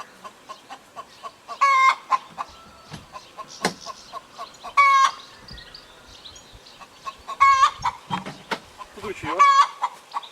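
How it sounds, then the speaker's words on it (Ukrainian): Hens cluck steadily with several louder, drawn-out squawking calls spaced a few seconds apart, fairly close, over faint outdoor background noise. "Що ті кури так самі? Знеслися."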